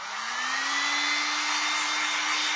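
Hair dryer running steadily to dry freshly applied red paint on a refurbished thrift-store tray, a loud continuous whooshing blow with a rising motor whine that settles into a constant pitch, no talking.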